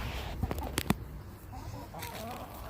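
Chickens cluck softly nearby in a backyard flock, a few short clucks and calls over low outdoor background noise, with sharp clicks early on.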